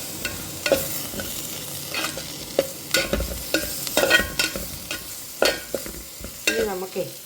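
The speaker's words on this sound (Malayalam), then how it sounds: "ചെറിയ വെച്ച് തക്കാളി ഇതിലേക്ക് ഇട്ടിട്ട് ഒന്നും കൂടെ ഇളക്കാം" Tomatoes stirred into a frying Kerala-style crab curry, with repeated scraping stirs and a steady sizzle close by, the spoon strokes coming in irregular bursts.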